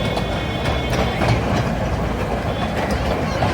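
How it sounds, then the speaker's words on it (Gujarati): The Kankaria toy train at a zoo in Ahmedabad rolls along its rails with a steady, dense rumble and faint rhythmic clatter, loud and close throughout, with no break. "કાંકરિયાની ટ્રેન ચાલી ટનાટન."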